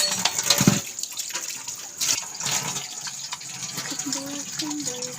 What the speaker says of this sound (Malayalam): കണ്ടോ നമ്മുടെ തോട്ടിക്കൂടെ വെള്ളം പോകുന്നത്.